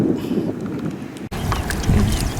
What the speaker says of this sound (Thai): วันนี้ลมทั้งวันเลยครับ